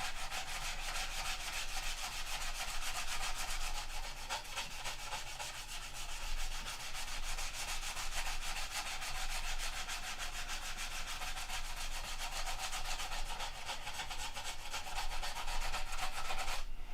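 Wood is sanded by hand in a steady, continuous back-and-forth rubbing, close and even in level throughout with no talking.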